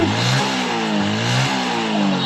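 A Honda Wave 110 motorcycle fitted with a new carburetor revs loudly up close, its engine droning steadily and rising in pitch in short repeated pushes of the throttle.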